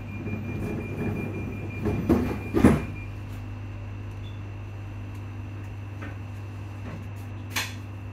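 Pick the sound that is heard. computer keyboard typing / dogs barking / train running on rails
train running on rails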